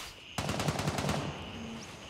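A burst of rapid automatic gunfire from enemy players in the video game Gray Zone Warfare, about a second of sharp repeated shots at mid-distance, then fading quiet.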